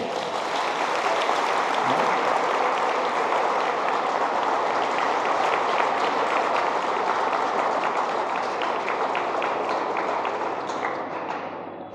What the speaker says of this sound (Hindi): अगर बात सही है तो ताली तो बजा दो एक बार